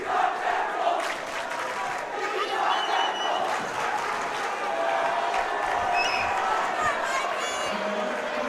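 Crowd noise at a high school varsity boys wrestling dual meet, Morris Knolls against Morris Hills, a steady roar of cheering and shouting voices that holds throughout with no quiet gaps.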